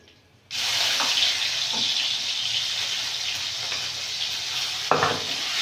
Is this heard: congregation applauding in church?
no